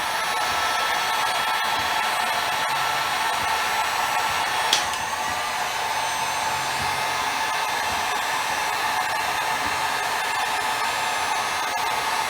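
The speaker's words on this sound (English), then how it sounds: "you just take a heat gun, dry it out" A heat gun blows steadily while drying a wetted, refinished gun stock, a constant loud whooshing hum held evenly throughout with only a faint click partway, close by and with no voices.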